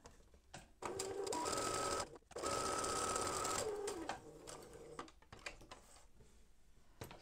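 Sewing machine stitching mini piping onto quilt binding, running in two steady bursts of close, loud whirring with a brief pause between, then quieter handling noises.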